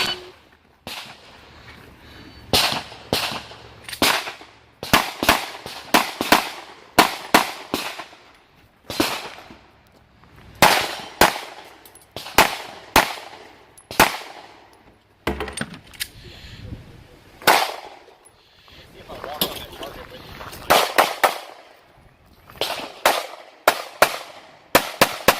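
Pistol gunshots at an IDPA shooting match, with budget Hi-Point, SCCY and G2 handguns. Sharp cracks ring out in rapid strings and short bursts with brief pauses between, spread over nearly half a minute.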